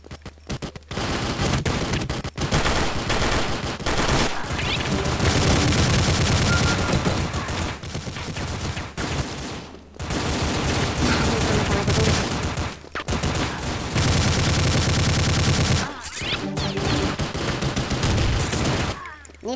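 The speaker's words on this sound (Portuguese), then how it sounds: "Nem sei de onde vem os tiros." Loud, sustained bursts of rapid gunfire in Counter-Strike roar in long volleys, separated by brief pauses, dense and close throughout.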